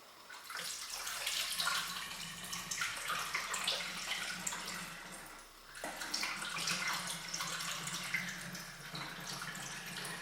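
Water pours steadily through a funnel into a vessel for a one-litre batch of cold brew coffee, a continuous soft splashing trickle with a brief break midway, close and fairly quiet.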